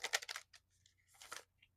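A large deck of cards is shuffled by hand in a few quick rustling, flicking bursts with short pauses between them, close and moderately loud.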